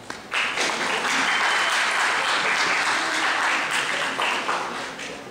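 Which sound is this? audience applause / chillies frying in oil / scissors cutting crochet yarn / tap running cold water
audience applause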